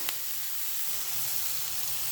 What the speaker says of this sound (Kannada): ಟೊಮೆಟೊ, ಈರುಳ್ಳಿ ಎಲ್ಲ ಕೂಡ, ಕೊತ್ತಂಬರಿ ಸೊಪ್ಪು, ಹಸಿ ಕಾಯಿ ಸ್ಲೈಸ್ ಮಾಡ್ಕೊಂಡಿದ್ನಲ್ಲ ಅದು ಕೂಡ ಹಾಕ್ಕೊಂಡು ಫ್ರೈ ಮಾಡ್ಕೊತಾ ಇದ್ದೀನಿ